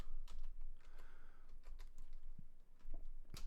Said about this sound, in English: type in these characters